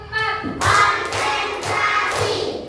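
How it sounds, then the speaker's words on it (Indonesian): Children in a first-grade classroom clap along with a teacher's counted routine, giving short rhythmic bursts of claps with soft thumps, close and moderately loud, and voices mixed in. "Tepuk 1 sampai 5."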